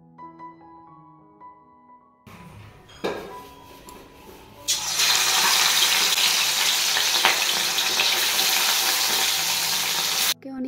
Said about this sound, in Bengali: তারপর গরম গরম তেলে মাছ ছেড়ে দেবো।